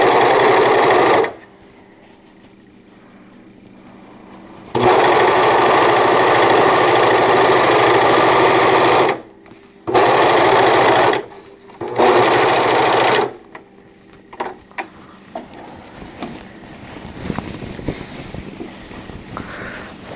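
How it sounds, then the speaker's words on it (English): A home sewing machine runs a straight stitch while joining fabric for a fitted crib sheet, a loud steady whir in one long burst, then two shorter bursts, then quieter handling noise. "If you don't, then do a straight stitch and sew them together."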